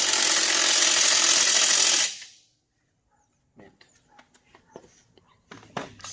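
A pressure washer sprays in a loud, steady hissing rush for about two seconds and then cuts off, leaving near silence broken by scattered small clicks and knocks.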